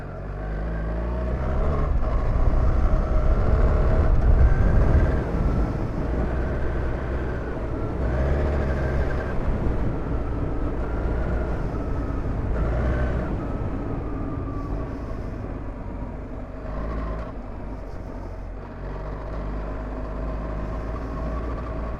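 BMW R1300GS adventure motorcycle climbing a very rough off-road hill trail, its engine a steady loud drone with a louder surge early on, then holding a consistent running rumble throughout with no talking.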